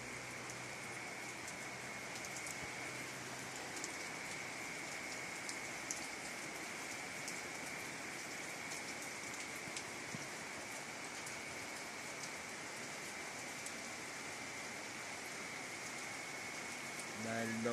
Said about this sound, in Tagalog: Yan po, lakas ng ulan.